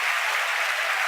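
Crowd at SpaceX headquarters in Hawthorne cheering a recovered Falcon 9 first stage, a steady wash of applause and cheering, loud and continuous, with no voice clearly standing out.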